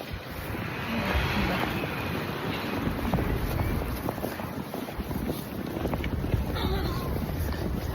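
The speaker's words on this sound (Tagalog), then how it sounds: "May kasamang hangin pati." Strong wind buffets the microphone outdoors in snowy weather, a loud, continuous rushing roar with gusty swells throughout.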